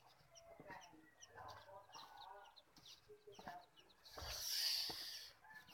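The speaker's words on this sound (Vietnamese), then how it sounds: "Đây là căn lều củi, một con đàn gà ở trong." Chickens in a woodshed cluck and squawk in scattered bursts close by, then break into a louder, harsh flurry of cackling near the end; faint voices murmur in the background.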